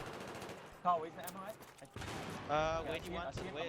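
Magnum revolver shots in a Battlefield match on Operation Metro, fired blind through smoke, with a few sharp bursts among busy battle noise while a commentator talks over it.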